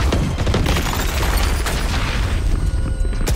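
A grenade explodes in the Valorant shooter game as a loud, sustained booming rumble. Dense low-end roar and crackle fill the whole stretch, with no speech.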